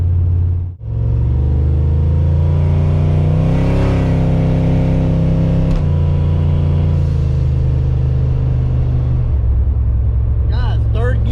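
Car engine idling and revving with a spark plug misfire, a loud, close rumble that rises and falls unevenly, with a short dropout near the start and a few sharp irregular sounds near the end.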